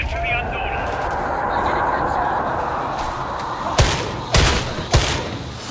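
Gunfire in the Warhammer Darktide video game: three sharp, loud shots near the end, well separated, over a steady rumbling game soundscape.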